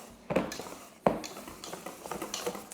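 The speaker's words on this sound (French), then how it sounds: "Là, cette fois-ci, on peut mélanger tout doucement." A spoon or whisk works through mascarpone cream thinned with liquid cream for tiramisu. Two sharp knocks against the bowl are followed by soft, continuous scraping and swishing strokes, close and fairly quiet, with no talking.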